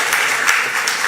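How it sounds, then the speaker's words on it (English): Ceremony audience at a school commissioning event in Ghana claps in a steady, dense wash of applause, moderately loud and continuous without any speech. "Let's clap for the leadership of this country."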